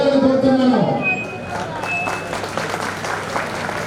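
Audience clapping breaks out in applause at a Christmas church gathering, a steady patter of hands that follows a short burst of talk near the start.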